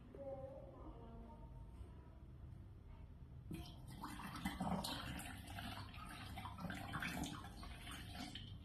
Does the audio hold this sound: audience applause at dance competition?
no